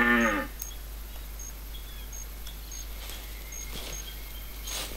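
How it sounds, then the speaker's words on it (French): A buffalo in The Hunter video game, in the Piccabeen Bay reserve, gives a single loud, deep moo at the start, then quiet outdoor ambience with faint high bird-like tones follows. "C'est un buffle."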